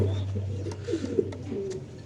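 Racing pigeons at a market coo softly in short, low bursts amid a steady hum of crowd noise and nearby voices.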